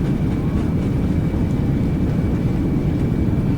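Airbus A320 thrust reversers roaring during landing in a flight simulator game, a steady loud low rumble with a faint high whine, continuous throughout with no speech.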